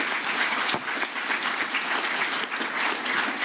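An audience at a meet-the-candidates evening applauds the candidates, an even, sustained wash of many hands clapping at moderate volume with no pause.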